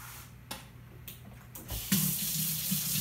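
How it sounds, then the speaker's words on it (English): A sink tap runs as someone washes their hands in a home kitchen while baking cookies, faint clicks at first and then a steady, close rush of running water, with no talking. "Alright, so I'm gonna wash my hands."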